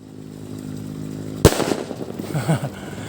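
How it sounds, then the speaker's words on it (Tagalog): A Yakult lifter firecracker with about 5 grams of powder bursts once with a sudden sharp, loud bang after a quiet hum, followed by a rumbling, crackling decay. "Ito yung lifter na bigla-bigla na lang sumasabog mga boss."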